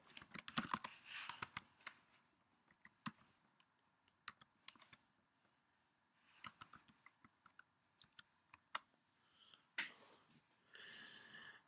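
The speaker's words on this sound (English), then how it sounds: "we're going to log out, and then we're going to type in a student name" A student name is typed on a computer keyboard in quick clusters of clicky keystrokes separated by short pauses, recorded close and alone.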